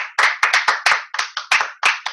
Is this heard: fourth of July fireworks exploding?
no